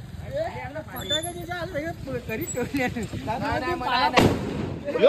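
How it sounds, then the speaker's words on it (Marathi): A sharp Diwali firecracker burst cracks out near the end, with people talking throughout and some crackle following. "हे बघ फटाके आणले फटाके अंगावर यायला लागले."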